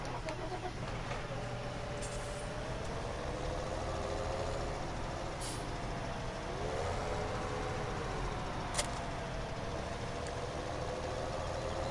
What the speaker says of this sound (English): So let's just spawn our tractor there.